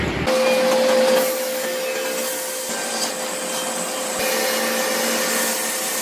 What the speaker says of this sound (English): With both horizontal and vertical blades, it only took a short time to cut that log into perfect planks